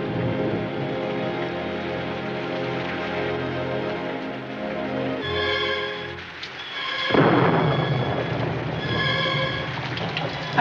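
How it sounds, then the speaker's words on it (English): A thunderstorm rumbles loudly through a continuous wash of noise, with a heavy crack and roll of thunder near the end, while a horse whinnies and hooves clop in the mix. "Storm that's keeping him."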